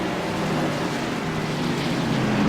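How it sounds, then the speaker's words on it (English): Tour Modified race cars at Martinsville Speedway roar at a distance as a broad, steady engine wash with faint harmonic tones sweeping through. "Tour Modified sweeping through these lights on the inside groove."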